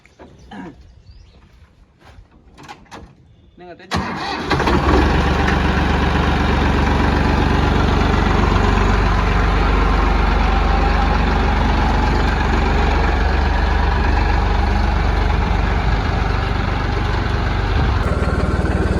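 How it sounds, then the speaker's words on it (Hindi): A Massey Ferguson 9500 tractor diesel engine cranks and starts after a few seconds of quiet clicks and handling noises, then settles into a loud, steady, close idle. "इसी के दौरान मैं आपको चला के भी दिखा दूंगा कि इसके कैसा क्या चलता है"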